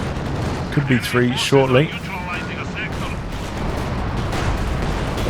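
Tank and 152 artillery fire in the video game Company of Heroes 2, with a caster talking over the first two seconds, followed by a dense rumble of heavy booms and gunfire that carries on steadily to the end.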